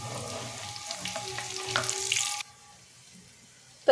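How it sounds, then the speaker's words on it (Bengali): Onion pakoras frying in hot oil, a close crackling sizzle for about two seconds that cuts off abruptly into quiet, followed by a brief sharp knock at the end. "পেঁয়াজিটা দুপাশ কিন্তু লাল হয়ে সুন্দর করে ভাজা হয়ে গেছে"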